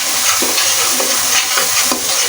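Spices for a hilsa fish curry fry steadily in a pan with a continuous loud sizzle, while a spoon scrapes and stirs them in soft repeated strokes at roughly half-second intervals.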